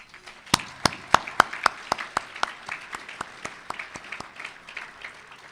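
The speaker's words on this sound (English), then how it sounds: "Please join me in a round of applause for these deserving families." Audience at a kollel dinner applauding, a sparse scattering of distinct claps that thins out and fades toward the end.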